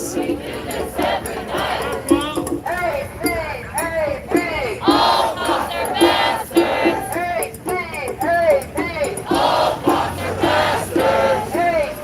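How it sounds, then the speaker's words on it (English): A street protest crowd marching along Fairfax in Los Angeles shouts and cheers in repeated rhythmic bursts of many voices, loud and close, continuing throughout with occasional clinks. "Some cheers, applause coming from this van."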